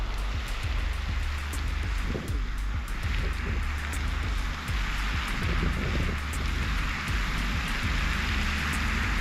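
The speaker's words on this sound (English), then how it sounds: "It's very windy out here today" Strong wind buffets outdoors beside a fountain, a loud, steady rushing roar mixed with splashing water and low gusty rumbles throughout.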